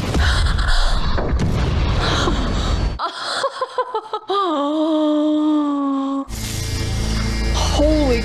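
Gunshots and explosive booms from an action scene in the movie The Equalizer, loud and dense, mixed with tense film score, gasps and reactions from viewers talking over it.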